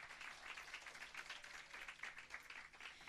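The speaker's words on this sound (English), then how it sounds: "A round of applause for all our awardees." Sustained applause from an audience at a heritage competition awards ceremony, a dense, even wash of many hands clapping at moderate distance for the awardees, with no pauses.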